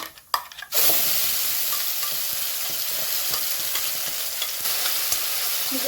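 Ground masala paste hits hot oil in a pan for fish curry, bursting into a loud, steady sizzle with spoon stirring and scraping close up after a short clatter at the start.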